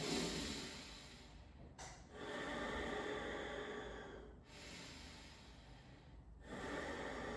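Slow pranayama breathing through the nose, drawing cool air in and pushing it out, with sustained airy rushes broken by brief pauses near two, four and a half and six and a half seconds.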